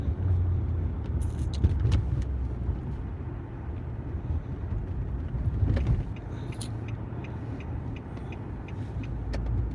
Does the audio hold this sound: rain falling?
no